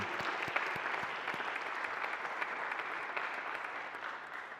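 A crowd applauds steadily, many hands clapping at once in a sustained, even patter heard from some distance.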